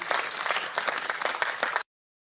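A dense round of applause from participants, many hands clapping together at moderate volume for under two seconds before cutting off abruptly to silence.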